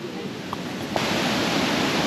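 A small waterfall at a tourist spot in Wayanad gives off a steady, close rushing roar of falling water that grows slightly louder partway through, with no voices.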